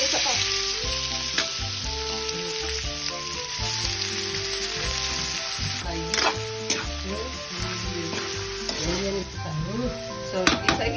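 Garlic and onion sizzle and crackle loudly in a pan, a continuous frying hiss with occasional utensil clinks, while music plays steadily in the background.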